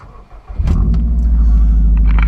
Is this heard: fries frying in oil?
no